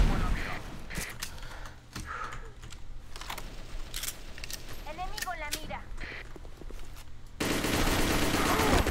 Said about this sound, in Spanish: Y vi que le disparé como tres balazos